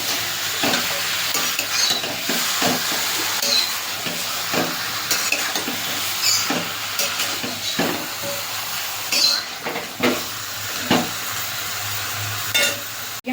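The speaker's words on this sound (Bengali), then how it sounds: "একটু ভেজে নেবো চিকেনটা।" Marinated chicken fries in a pan, giving a steady close sizzle with repeated scraping stirs and occasional metallic clinks of utensil on pan, without any talk.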